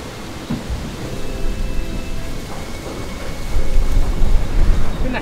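Steady rain hisses throughout with low thunder rumbles that swell and grow louder toward the end, heavy and close with no voices.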